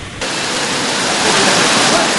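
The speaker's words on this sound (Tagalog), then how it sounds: "bumuhos na ang malakas na ulan na sinabayan pa ng mga hulog at kidlat" Heavy rain pouring down during a thunderstorm, a dense, loud, continuous roar of falling water with no distinct thunderclap and no talk.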